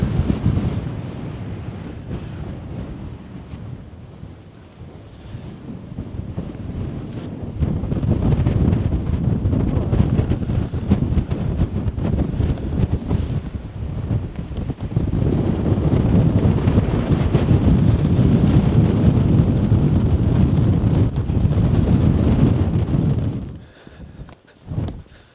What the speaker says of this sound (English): Quite a wind here now. Let's see if this mic copes with the wind.